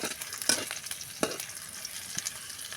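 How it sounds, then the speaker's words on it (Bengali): Onions frying in a pan on the stove, a soft continuous sizzle with a few brief scrapes as they are stirred, fairly quiet and without any talking. "দেখো বন্ধুরা, পেঁয়াজটা ঠিক তোমরা এরকম করে ভেজে নেবে।"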